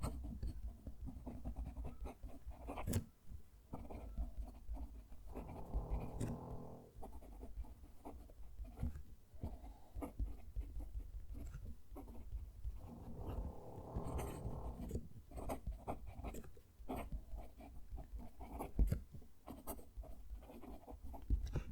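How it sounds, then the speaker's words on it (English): Fountain pen nib scratching across paper while a sentence is written, a soft continuous scritching with short pauses between words, close and quiet, with no talking. "We'll move the mic and write the sentence."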